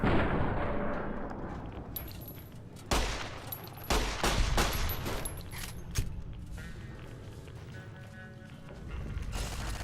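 Turret gunfire in the game Fallout: New Vegas, several sharp loud bursts of shots scattered over a few seconds amid background game noise and faint rumble.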